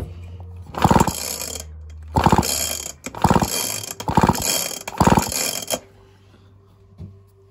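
A Homelite Super XL chainsaw is pull-started by hand, with five loud, close cranking pulls, each a burst of rapid ratcheting engine turnover, separated by short pauses and followed by quiet.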